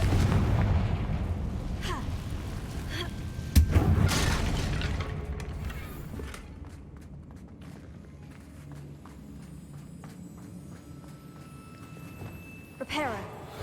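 A Confringo blasting spell from Hogwarts Legacy bursts in a heavy boom, with several more thumps, footsteps and game noise following, while a voice talks over parts of it.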